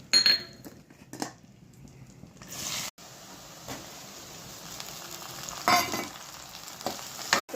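Oil with asafoetida, green onion and tomatoes frying in a pan, a faint sizzle broken by clinks and scrapes of a utensil stirring, quiet and intermittent with a few sharper bursts.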